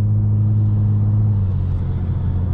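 Steady low engine hum and road rumble from a 2003 Mercedes C240 W203 sedan cruising at moderate revs with the air conditioning off, droning continuously and evenly throughout from inside the cabin.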